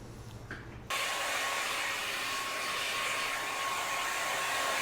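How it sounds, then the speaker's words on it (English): A hair dryer blows hot air over fresh paint on a Nerf blaster, switching on abruptly after a short quiet moment and then holding a steady, close whooshing whine throughout. "so I'm just going to go take a hair dryer to it."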